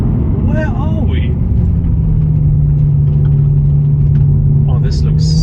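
A BMW M3 E92 engine drones steadily at a low, constant pitch while driving mountain roads, with a brief voice near the start and another near the end.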